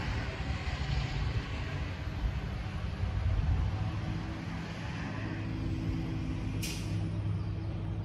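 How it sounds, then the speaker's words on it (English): A dump truck passes at close range, its heavy engine rumbling steadily for several seconds with a short, sharp hiss of air brakes near the end, and no talking. "Let the dump truck go by."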